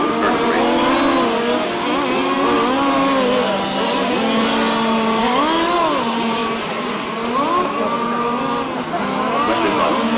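Several race cars revving at a track just before the race starts, loud close engine notes rising and falling in overlapping sweeps, with faint voices underneath.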